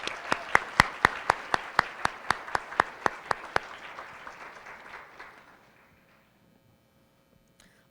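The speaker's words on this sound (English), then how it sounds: "Can we give them a round of applause for their support?" An awards ceremony audience applauds families and supporters, with loud, evenly spaced nearby claps over a wash of crowd clapping that fades out to near silence over several seconds.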